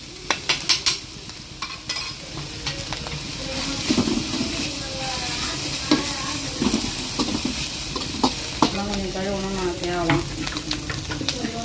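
Egg rice sautéing in a pan, a steady sizzle broken by repeated spatula scrapes and clinks against the metal, with a few sharp taps near the start.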